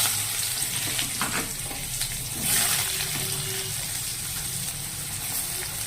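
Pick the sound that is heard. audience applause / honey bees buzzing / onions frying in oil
onions frying in oil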